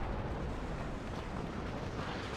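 Continuous dense, rumbling roar of artillery strike explosions in the Cold War strategy game WARNO, loud and sustained with no clear gaps between blasts and no talk.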